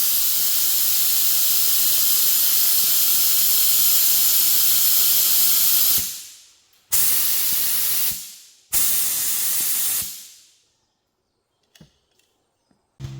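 A paint spray gun at 24 psi, spraying colorshift paint, hisses steadily for several seconds, then fires three shorter bursts, each cut off sharply, before falling quiet.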